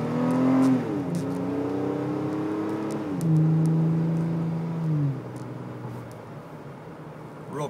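A 2008 Toyota FJ Cruiser accelerates up to speed, its engine note climbing through rising gear pulls with audible shifts before settling into a quieter cruise, heard from inside the cab.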